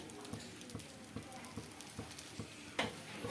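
A healthy homemade dosa cooks on a pan without oil, a soft, steady sizzle with faint crackles and a few light taps from the spatula, close and quiet, with no talking over it.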